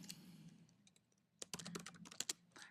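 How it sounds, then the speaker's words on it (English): Quiet typing on a computer keyboard: a few scattered keystrokes, then a quick run of close, crisp clicks, with no talk. "I'm going to type in my name"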